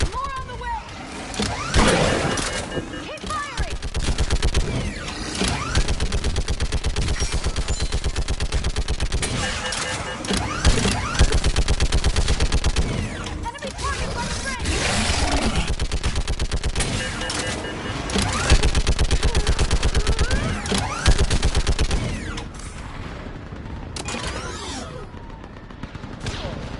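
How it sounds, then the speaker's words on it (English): Sustained gunfire from a Mass Effect 3 battle, rapid overlapping bursts and shots running loud and dense throughout, with shouting voices in the mix. "Keep firing!"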